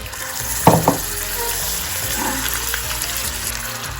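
Butter dropped into hot caramelised caster sugar in a pan, a loud continuous close sizzle with a brief sharper splutter near the start and steady bubbling throughout.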